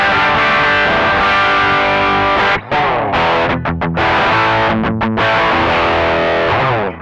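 An electric guitar played through an Ibanez NU Tube Screamer, its mix control turned fully to overdrive, sounds as loud, sustained, heavily distorted chords with a short break partway through and no voices.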